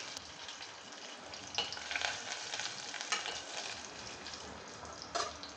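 Cumin seeds, a piece of cinnamon, cloves, green chili pieces and curry leaves crackle in hot oil for farali khichdi; steady close sizzling with occasional sharper pops and stirring, no speech.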